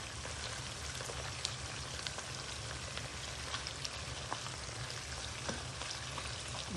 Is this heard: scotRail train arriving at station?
no